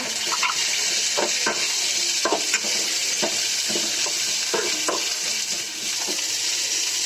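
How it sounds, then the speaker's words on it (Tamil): Pirandai (adamant creeper) is sautéed in a pan for thuvaiyal, giving a continuous close sizzle broken by repeated clattering stirs of a spatula against the pan, with no voices. "அப்புறம் பிரண்டையை போட்டு வதக்கிக்கலாம்."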